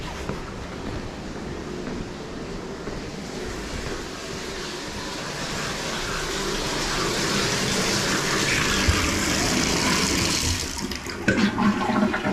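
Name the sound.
toilet flush water running through sewer pipe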